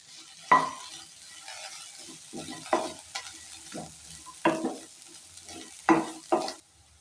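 Potatoes and garlic fry in a pan under a faint, steady sizzle, broken by about half a dozen louder scraping strokes as a spoon stirs and turns them.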